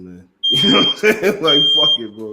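Electronic alarm beeping in the style of a smoke detector, a high steady tone that sounds in two long stretches under a man's continuous, close conversation.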